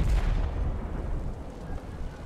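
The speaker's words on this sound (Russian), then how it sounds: "Взрывы." Heavy explosions in Marvel's Spider-Man Remastered rumble loud and deep, a continuous booming roar of blasts that fades slightly after the first second.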